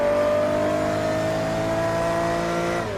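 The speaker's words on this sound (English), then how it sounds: "Hear that flat 12 engine go." A Porsche 917 race car's flat-12 engine revs hard and steady at close range, a sustained high-pitched howl holding nearly constant for about three seconds before easing slightly at the end.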